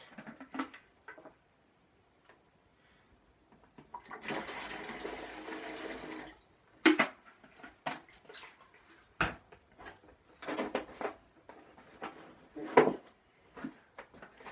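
Water gushes into a container for a homemade instrument in a short pour, followed by separate sloshes, knocks and splashes spaced apart, close and fairly quiet, with no talking.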